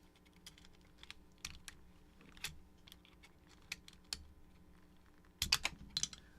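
Typing on a newly built HellCat Alice mechanical keyboard: sparse, irregular clacky keystrokes up close in a quiet room, with a denser loud burst of presses near the end.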